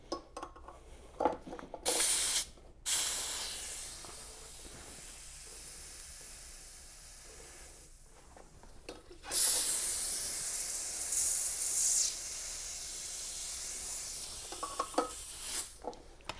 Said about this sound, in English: we'll crack open our bottle to let the pressure drain off of this section of tubing here